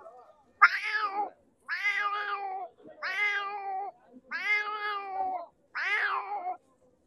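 A man imitates a cat's meows with his voice, five drawn-out, wailing meows in a steady row with short pauses between, close and clear against a quiet background.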